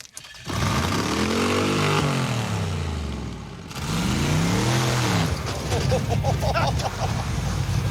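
A Mazda doing a burnout spins its tires to smoke: a loud engine revs up and falls back twice in long sweeping pulls, then holds a rough high-rpm roar with tire scrub, close by and without speech.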